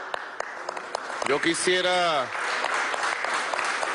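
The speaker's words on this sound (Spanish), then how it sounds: "Desde aquí le damos un aplauso." Audience applause at a Venezuelan government working session at the Miraflores palace, a burst of clapping that rises under a voice speaking and then settles into a steady background.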